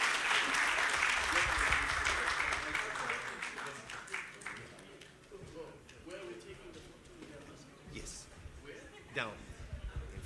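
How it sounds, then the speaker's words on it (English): A round of applause at a formal farewell gathering for ambassadors and high commissioners at the AfCFTA Secretariat swells at the start, then gradually fades into scattered claps under murmuring voices and talk. "A round of applause as they take their place."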